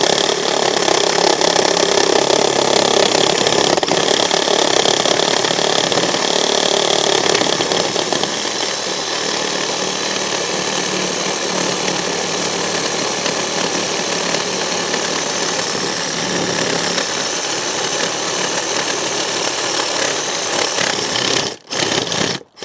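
A reciprocating saw fitted with a pruning blade cuts through wood, giving a loud, steady, harsh buzzing rasp that runs nearly continuously for over twenty seconds. It stutters and stops near the end, and no one speaks.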